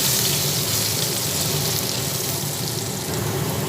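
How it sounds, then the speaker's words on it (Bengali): Potato pieces frying in hot oil with turmeric and salt, a dense, continuous hissing sizzle that stays close and fairly loud throughout without a break. "আলুগুলো অল্প করে ভেজে নিলাম"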